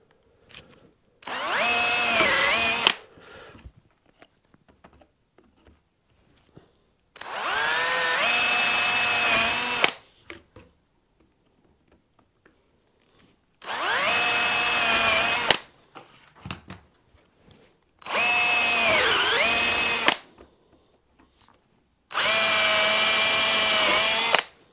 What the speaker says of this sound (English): Gently drill through.